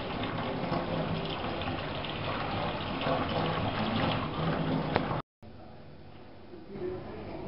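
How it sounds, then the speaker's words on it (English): Cold tap water runs in a steady, fairly loud gush over drained, partly cooked rice for a biryani, then cuts off abruptly and leaves only a faint room hush. "And we'll run cold water over it"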